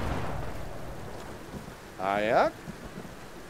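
Steady rain hisses through a Tomb Raider (2013) scene, with a short burst of louder noise midway and a voice speaking briefly over the downpour.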